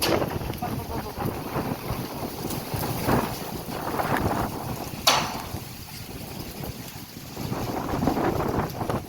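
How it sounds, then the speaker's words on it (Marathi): Strong wind blows outdoors with continuous gusty roaring and buffeting on the microphone, rising and easing in waves, with a sharp knock midway. "किती वारा आलाय बघा, पाऊस पण येण्याची शक्यता आहे."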